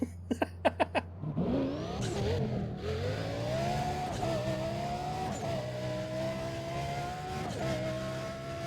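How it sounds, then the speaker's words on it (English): High-revving Lamborghini supercar engine in a racing video game: after a few quick sharp ticks, a sustained loud engine roar climbs and holds steady with slight dips as gears shift, with no talking. "souped up Lamborghini"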